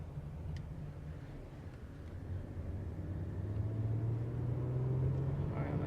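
A 2016 Lexus ES 350 with 23K miles accelerates, its smooth, low engine rumble growing gradually louder and rising in pitch over several seconds, with no sharp changes.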